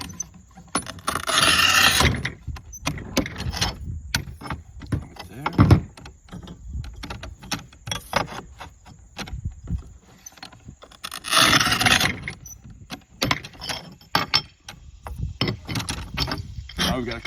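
A machine cuts porcelain coasters, producing two loud scraping bursts and many sharp clicks and rattles in between, close up, with some talk mixed in.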